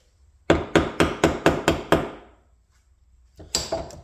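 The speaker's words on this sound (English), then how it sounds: "Turns out all I needed was a little bit of a heavier hammer." Seven evenly spaced, ringing metal strikes of a heavy hammer driving a bearing into a Polaris 350L water pump, loud and close, followed by a pause and two more quick blows.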